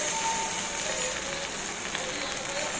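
Chicken pieces sizzling in hot oil in a pan, a steady bright crackle and hiss running close and unbroken with no voices.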